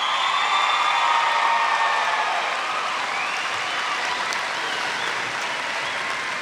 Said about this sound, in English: Please give these honor and high honor graduates a round of applause.